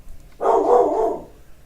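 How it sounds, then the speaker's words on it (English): A single dog bark outside on a street, one short mid-pitched woof heard at a distance, alone without talk. "Somebody's probably walking a dog. It's got that sound."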